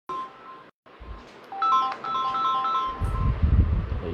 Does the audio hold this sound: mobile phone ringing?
yes